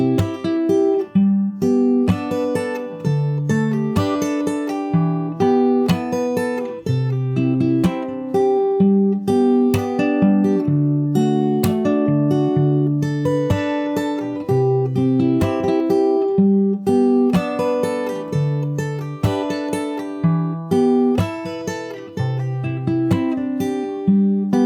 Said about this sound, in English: after that you have the chorus, which is exactly the same as the first chorus, but you just have to add the percussion to it